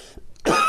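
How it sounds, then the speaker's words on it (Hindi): A man recording late at night, who has a cold, gives a single close, loud cough, preceded by a brief throat sound and a short silence. "सॉरी, खांसी हो रखी साथियों"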